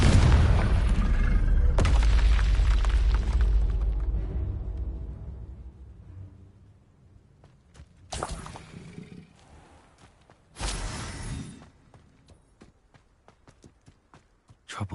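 Confringo blasting spell explosions in Hogwarts Legacy: a heavy, booming blast that slowly rumbles away, followed by two sharper, shorter bursts that are spaced apart, with no talking.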